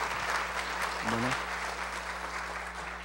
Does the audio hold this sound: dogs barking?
no